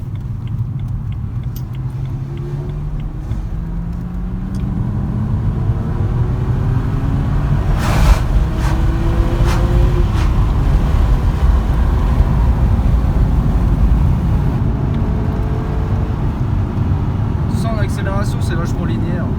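A BMW 330xi running on E85 fuel accelerates steadily, its engine note climbing in pitch over a continuous low drone heard from inside the car.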